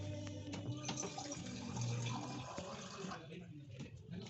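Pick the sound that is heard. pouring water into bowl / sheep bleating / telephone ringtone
pouring water into bowl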